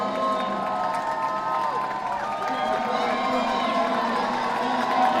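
A stadium crowd at the Penn Relays cheers steadily through a track race, a continuous roar of many voices with scattered shouts, while a commentator talks over it.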